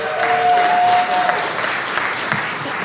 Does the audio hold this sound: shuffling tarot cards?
no